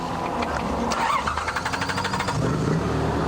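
The engine of a Nissan rally car in the 2002 Dakar Rally cranks, catches and settles into a mid-pitched running note, heard loud and close with no voices.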